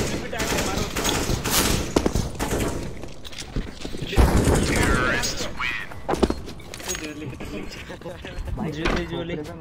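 Gunfire bursts from a video game match, rapid shots and thuds recurring loudly across the stretch, mixed with a player's voice.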